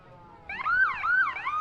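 An original vintage ambulance from Parkland Ambulance's float in the 2014 Prince Albert Exhibition Parade sounds its siren, which kicks in partway through and wails in rising and falling sweeps at moderate distance.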